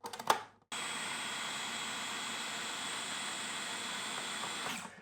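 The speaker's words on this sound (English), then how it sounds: "So we're gonna pop the lid on and blend this until we get a smooth hazelnut butter." A Cuisinart food processor blends roasted hazelnuts into butter. A short clatter comes first, then the motor starts with a steady, loud, high whirring drone that runs on without a break and eases off at the very end.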